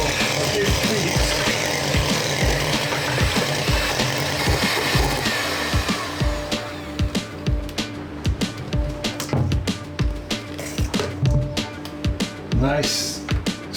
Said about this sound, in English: we're gonna whisk the cream to a big beat